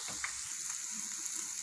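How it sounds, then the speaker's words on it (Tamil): Ingredients for stuffed brinjal fry sautéing in a pan, a faint, steady hiss of frying with a couple of soft stirring scrapes, heard briefly and alone. "அதையும் போட்டு நல்லா வதக்கிப்போம். ஒரு 1 மினிட் வேகட்டும்."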